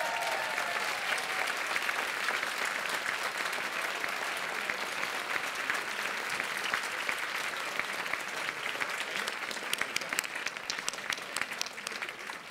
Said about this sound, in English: Yes, now you can clap.